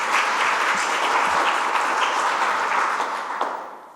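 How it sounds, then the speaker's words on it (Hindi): A school audience gives sustained, dense applause for a guest guru, an even wash of many hands clapping together that holds steady and then begins to fade at the end. "उनके लिए जोरदार तालियां बजाएं।"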